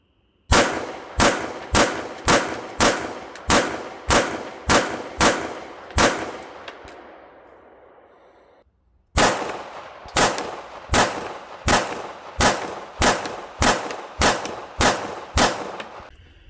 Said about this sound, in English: Let's fire a couple of shots.